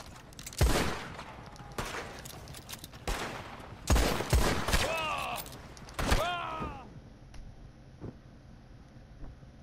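Rapid gunfire during shooting practice in Red Dead Redemption 2 Online, a video game, with several sharp, loud shots in an uneven rhythm, some doubled in quick pairs, followed by ringing whistling tails and a speaking voice underneath.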